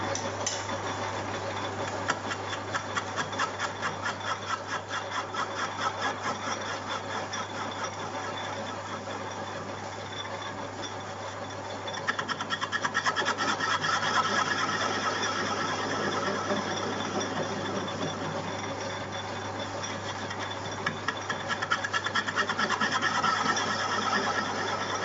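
Lathe facing cut across the end of a replica Victorian rail head mounted on a face plate, a steady, continuous machining drone with a rhythmic ticking texture that swells louder partway through and carries on without speech.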